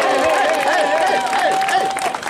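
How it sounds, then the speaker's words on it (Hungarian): An outdoor crowd on the main square in Temesvár claps and cheers for a band at the end of a concert. The dense, steady applause is loud and close and carries on through the whole stretch. "hatalmas taps a közönségnek"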